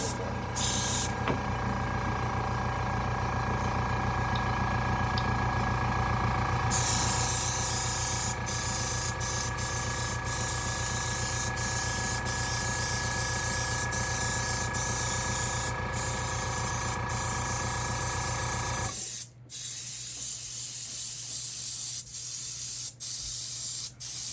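An airbrush spraying paint onto an angel finch figure hisses loudly and steadily with a compressor-like hum beneath it, then drops to a quieter hiss with a few brief cutoffs near the end.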